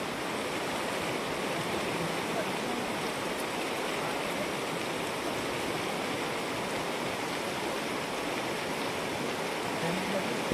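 A village river in the hills flows in a steady, close rushing roar with no breaks, a dense wash of water noise filling the whole stretch.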